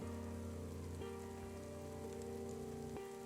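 Steady rain patters on a surface throughout, continuous and even, underneath a low sustained tonal drone that shifts pitch a couple of times.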